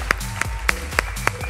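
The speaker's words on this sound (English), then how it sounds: "You need another applause" Scattered audience applause at the Sime Stockholm 2014 conference as a speaker returns to the stage, a handful of loud, distinct claps at roughly even intervals over a low hum.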